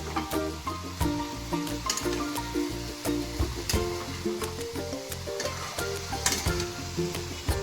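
Softened cauliflower being stirred in a pan for gobi masala, with repeated scraping strokes and thuds of the spoon over a constant sizzle, close and fairly loud, no talk.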